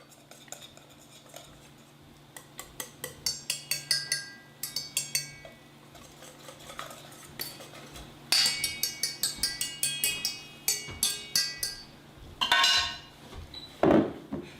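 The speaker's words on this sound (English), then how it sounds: "So you just want to whisk it up like that, just like that." A metal whisk beating homemade syrup in a bowl, bursts of quick rhythmic clinking against the sides with short pauses between rounds, close and bright, with no voices.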